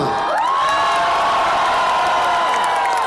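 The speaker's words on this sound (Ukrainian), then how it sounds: "Давайте Надю привітаємо оплесками, вона зараз тут" Audience at a concert in Lviv cheers and applauds, a loud dense wash of clapping and whoops filling the whole stretch, with a sustained shouted tone riding over it.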